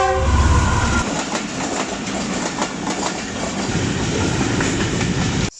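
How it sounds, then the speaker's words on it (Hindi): A super parcel freight train rolls past Mando Dairo railway station near Rohri, beside wheat fields. A horn sounds at the start, then a loud, continuous rumble with rhythmic wheel clatter that stays close and steady. "सुपर पार्सल फ्रेट ट्रेन पास हो रही है मंडो डेरो रेलवे स्टेशन से"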